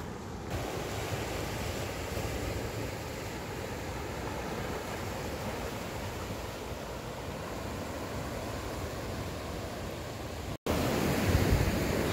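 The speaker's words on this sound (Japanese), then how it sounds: "もう結構波強い感じしますけどね" Strong ocean waves surge against the rocky Shioya coast of Minami Daito Island, a steady, loud roar of surf mixed with wind buffeting the microphone, with a brief dropout near the end before the noise returns louder.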